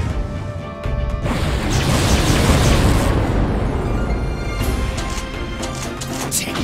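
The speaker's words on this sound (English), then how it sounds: "explosion!" A loud explosion attack in the Atelier Iris 3: Grand Phantasm role-playing game, a sudden crash that swells into a long rumbling roar and fades slowly, with no talking over it.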